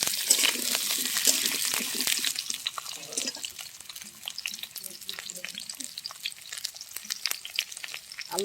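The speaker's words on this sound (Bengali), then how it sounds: "তেল গরম হয়ে গেছে, এবার আমি কেটে রাখা আলুগুলো দিয়ে দেব।" Cut potatoes hit hot oil in a pan and fry with a busy, crackling sizzle. The sizzle is loudest at first, then continues as a steady popping patter close by.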